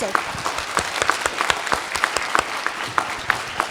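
Students at a university debate are applauded by their audience with steady, brisk clapping from a room full of people, and a voice speaks briefly over the ovation.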